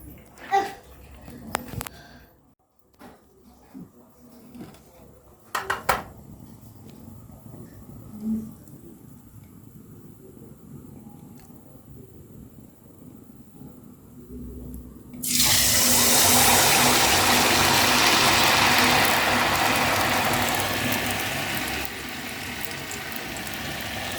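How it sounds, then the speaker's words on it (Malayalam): Batter-dipped banana pieces for pazham pori drop into hot oil in a kitchen. After scattered clinks and a voice, a sudden loud, steady crackling sizzle takes over. "അപ്പോൾ ഇത് നമുക്ക് ഈ മാവിനകത്ത് മുക്കി എണ്ണയിലോട്ടൊന്ന് ഇട്ട് കൊടുക്കാം"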